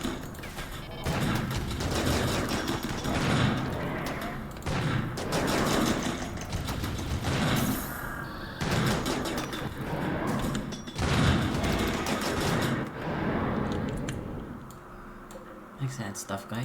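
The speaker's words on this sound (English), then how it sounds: "the centipede cannon worked very well" A centipede cannon fires repeatedly in the supervillain lair game Supervillain on Sea Ice, with loud rapid bursts of mechanical gunfire, clattering and ticking that rise and fall over the whole stretch, mixed with game effects and voices.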